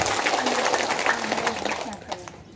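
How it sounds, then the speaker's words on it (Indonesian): A large outdoor crowd at a political rally on a field in Tunabesi applauds, a dense crackle of many hands with voices and shouts mixed in, fading toward the end. "Kita tepuk tangan dulu untuk orang YOKOVEU"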